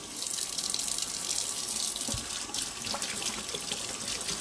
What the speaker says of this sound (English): And I'm using cool water here, not hot water.